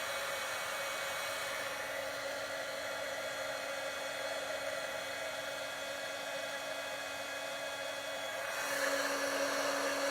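A heat gun used for stamping and craft work blows a steady, airy whir for the whole stretch, close and fairly even, with a slight rise in pitch and loudness near the end.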